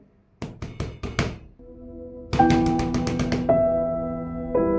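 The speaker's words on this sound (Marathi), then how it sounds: "आता आणखी वाट न पाहता मांजीने खोलीचं दार वाजवलं" Knocking on a wooden room door: a quick run of about four sharp knocks, then a second faster burst of raps layered over sustained musical tones, close and clear.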